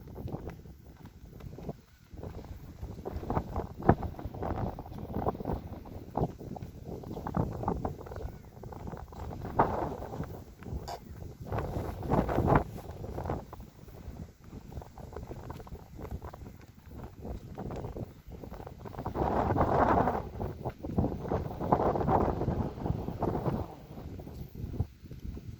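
Strong wind gusts blow across an open field during a tug-plane and UMX Turbo Timber model flight, a continuous low rumble of buffeting that swells and ebbs and grows loudest near the end, with no talk.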